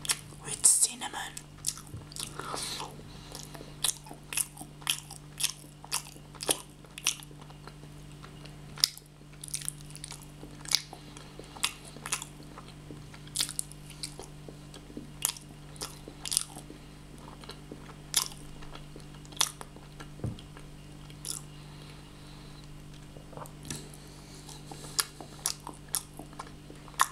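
Close, crisp bites and crunchy chewing of cinnamon cake and spice cookies, with repeated sharp crunches at an irregular rhythm over steady mouth sounds, recorded intimately in a quiet room.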